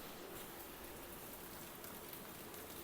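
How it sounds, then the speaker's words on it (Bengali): Heavy rain pouring outside at night during a thunderstorm, a dense, steady hiss of falling water that stays constant and fairly near throughout, with no voices. "বাইরে কিন্তু বৃষ্টি হচ্ছে প্রচণ্ড জোরে"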